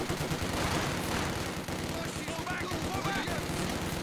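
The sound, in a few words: heavy mortar firing in the video game Company of Heroes 2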